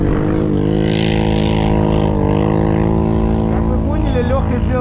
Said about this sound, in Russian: А это со своим выхлопом орёт уже.